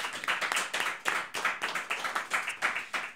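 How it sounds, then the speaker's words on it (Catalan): A studio audience claps for a guest on a Catalan-language talk show, a fairly faint, rhythmic patter of hands at a brisk, regular pace. "Un aplaudiment per ell. Bravo!"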